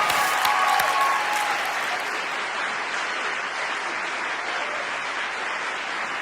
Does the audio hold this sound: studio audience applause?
yes